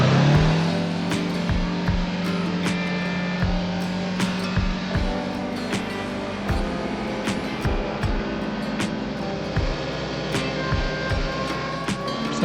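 A car turning onto and cruising along Highway 188, with a steady engine drone and road noise, plus occasional light ticks and bumps throughout.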